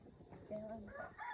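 Chickens cluck near a rural house, a few short, close vocalizations over faint background noise.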